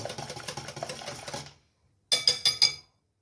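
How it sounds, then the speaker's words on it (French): A crème caramel mixture is whisked in a bowl: a steady run of quick scraping, clinking strokes for about a second and a half, a short pause, then a few sharper bursts of whisking close by. "on va bien mélanger"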